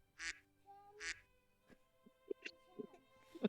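Short nasal duck quacks, a pair of loud calls followed by softer scattered quacks and small knocks, fairly close in a quiet setting.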